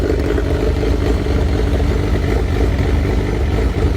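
A loud, rough straight-piped motorcycle engine idles steadily with a throaty, unmuffled rumble and a little mechanical clatter throughout, not revving.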